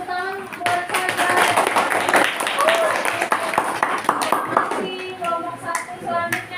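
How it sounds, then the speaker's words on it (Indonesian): Classmates clap for a group presentation in a classroom, a scattered patter of hands running throughout while voices talk over it. "Tepuk tangan buat saya."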